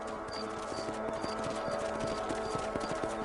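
Horse hooves clip-clop at a steady trot in the Red Dead Redemption video game, a regular rhythmic beat over a constant ambient bed, with no talking.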